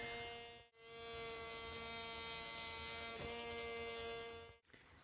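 A Tamiya Mini 4WD electric motor runs steadily through break-in, giving a close, constant high-pitched whine and buzz that carries on without a break and then cuts off near the end.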